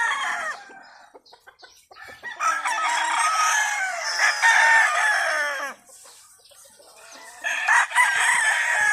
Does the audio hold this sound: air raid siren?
no